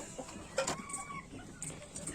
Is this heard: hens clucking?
yes